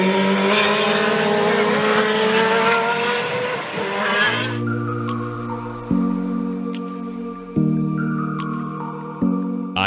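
IMSA GTO Mazda RX-7 race car with a rotary engine, screaming at high revs then shifting through gears with distinct stepped pitch drops, loud and close with no talk.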